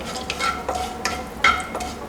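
Whole spices such as cardamom, cloves and cinnamon fry in hot ghee and white oil for vegetable pulao, with a soft steady sizzle and a few light stirring scrapes close by.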